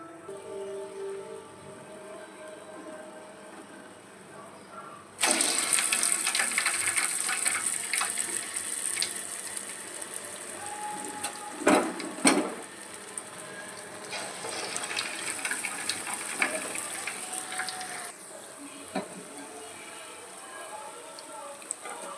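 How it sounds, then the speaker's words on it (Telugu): Vulava Burelu dumplings drop one by one into hot oil for deep-frying, and a loud, steady sizzling hiss starts suddenly after a quiet opening and continues to the end. "ఆయిల్ బాగా కాగిపోయింది. ఇప్పుడు ఆయిల్లో ఒక్కొక్కటి వేసుకుందాము."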